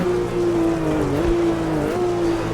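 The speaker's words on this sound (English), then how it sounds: "Really revving the car all the way out, coming down into the Bosch curve," A Porsche 911 RSR 3.0 engine revs hard in the AMS2 racing game on the 1970s Red Bull Ring, one steady high tone with short dips as the car heads into the Bosch curve.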